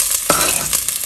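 Chopped onion tossed into a little hot oil in a small pot, giving a sudden sizzling rush of frying noise that settles into steady crackle with stirring, close and fairly loud, no talk.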